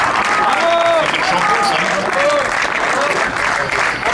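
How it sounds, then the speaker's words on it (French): Crowd applause at a race podium ceremony honoring the first female finisher, a dense steady wash of clapping throughout, with a voice announcing over it. "je vous demande d'applaudir très fort"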